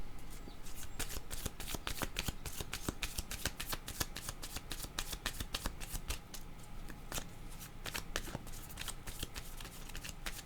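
Tarot cards are shuffled over and over in a quick, steady run of crisp riffling flutters, close and quiet, with no talking.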